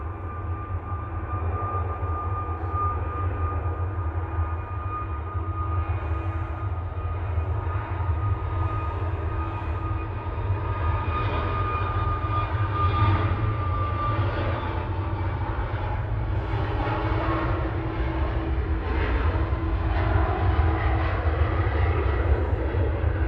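A jet airliner at Manchester Airport rolls down the runway on its takeoff run, a loud, steady engine roar with a deep rumble that holds for the whole stretch and swells slightly toward the end.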